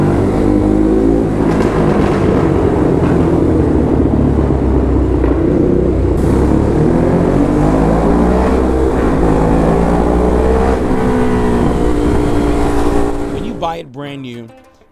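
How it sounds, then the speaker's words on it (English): A Ducati Hypermotard SP motorcycle with an SC Project CRT exhaust, loud and close, rumbling at idle and then revving up and down in waves before it cuts off abruptly near the end. "The SE Project CRT exhaust on the Hypermotard sets the tone for this motorcycle."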